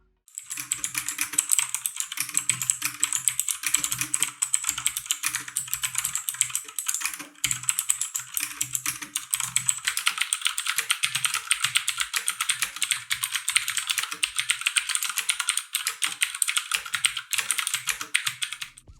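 Rapid, steady clacking of a Hyperkin Super Nintendo-themed mechanical keyboard with clicky switches, continuous keystrokes close up with a faint low hum underneath.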